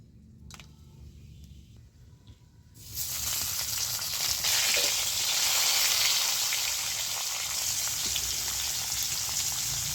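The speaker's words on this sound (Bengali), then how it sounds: "তো কড়ার মধ্যে একটু তেল দিয়ে দিচ্ছি।" Oil goes into a hot wok (kadai) that has just been used to fry pointed gourd. A quiet start gives way to a sudden loud, close sizzle that swells and then holds steady.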